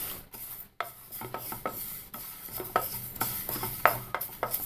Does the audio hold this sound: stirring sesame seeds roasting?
yes